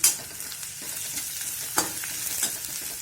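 Chopped onions, ginger and green chillies fry in a pan, giving a fairly soft, even sizzle with a couple of brief stirring taps.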